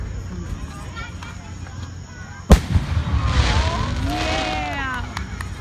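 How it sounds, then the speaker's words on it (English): Fireworks go off outdoors: one sharp, loud bang followed by a rolling crackle and whistling bursts that fade over several seconds, with low background noise before the blast. "Let's enjoy the fireworks."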